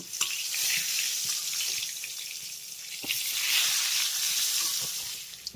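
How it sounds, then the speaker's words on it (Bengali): Brinjal slices fry in hot oil over a medium-high flame, a steady close sizzle lasting throughout, with faint clicks as the pieces are turned. "একটা একটা করে বেগুন আমি এই গরম তেলের ভিতরে ছেড়ে দেব আর তারপর মিডিয়াম হাই ফ্লেমে এই বেগুনটাকে আমি উল্টে পাল্টে লাল লাল করে ভেজে নেবো"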